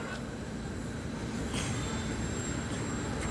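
KAI commuter train of 10 cars pulling into a station on the Jakarta line, a loud rolling rumble with wheel clatter and brief squeals, close and continuous without talk.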